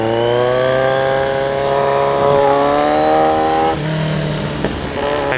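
A Kawasaki Z1000 Z1 motorcycle revs on a small racetrack, its loud, close engine note climbing and falling in steady pitch sweeps, with a brief dip before rising again.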